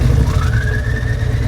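A motorcycle engine whines on the throttle, a loud close rumble with a high whine rising in pitch and holding steady.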